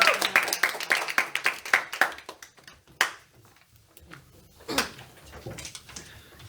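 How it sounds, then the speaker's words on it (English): Audience clapping at a Toastmasters club meeting after an evaluator's speech, a burst of hand claps fading out over several seconds, then sparse scattered claps and faint room noise. "Let's give a big round of applause to Toastmaster Rachmat."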